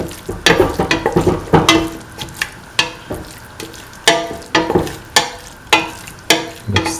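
Chicken meatball mixture with ground pepper, chili flakes and garam masala is worked by hand in a bowl, making wet, squelching slaps in an uneven rhythm, close and fairly loud with short pauses between strokes.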